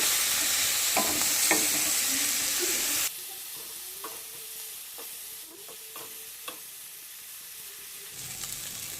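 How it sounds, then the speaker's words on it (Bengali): Prawns sizzle steadily in hot oil with turmeric, with a loud hiss at first that drops to a quieter fry, punctuated by occasional scraping stirs. "এবার চিংড়ি মাছগুলো ভালো করে ভেজে নেব।"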